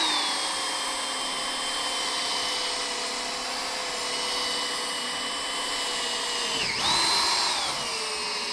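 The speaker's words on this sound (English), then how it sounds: "you don't want to go too fast here with your drill." A cordless drill whines at a steady pitch while polishing the headlight lens of a 2006 Mazda Miata NC, running close and continuous before a brief dip and rise in speed near the end.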